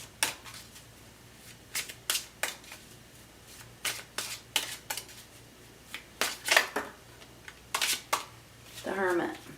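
Tarot cards are shuffled and handled during a reading, with a long series of sharp, close riffles and snaps in an irregular rhythm and a brief murmur of voice near the end.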